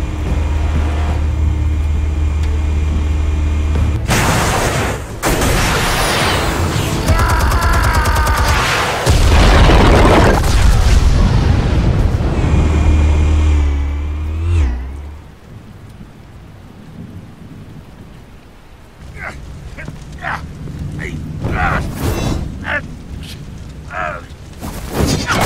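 Explosives detonate in the Telltale Batman video game, heavy rumbling booms rolling loud and close for several seconds, then fading into quieter crackling debris and scattered impacts.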